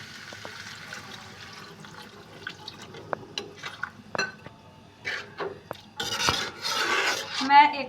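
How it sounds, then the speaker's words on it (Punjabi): Water poured into nutri kulcha masala in a pan, a faint trickle and scraping at first, then a louder burst of splashing and sizzling liquid toward the end, close by. "ਚਲੋ ਜੀ ਹੁਣ ਇਹਦੇ ਵਿੱਚ ਪਾਉਨੇ ਆ ਜੀ ਆਪਾਂ ਪਾਣੀ"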